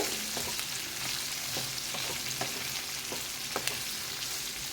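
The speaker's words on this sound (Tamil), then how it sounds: "நான் அந்த வெங்காயத்தோடையே சேர்த்து எல்லாம் சேர்ந்து ஒன்றாவே வதக்கிக்கலாம்" Onions and other chutney ingredients sauté together in a pan, giving a steady soft sizzle with intermittent light scraping and clicking of a stirring spoon, close by and without talking.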